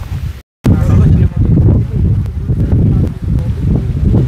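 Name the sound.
wind blowing outdoors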